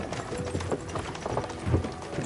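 Horses' hooves clip-clop at an easy walking pace while riding in Kingdom Come: Deliverance 2, a soft uneven patter of several animals heard close and fairly quiet, with no talk over it.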